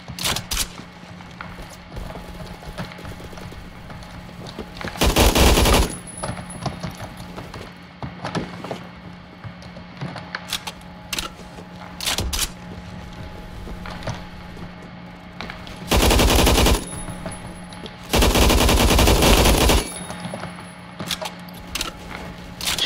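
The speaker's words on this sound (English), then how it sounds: "using it now, yeah, it's obviously an LMG" Bursts of sustained automatic fire from an AUG HBAR light machine gun in the Phantom Forces video game, three long loud volleys over scattered mechanical clicks and rattles between them.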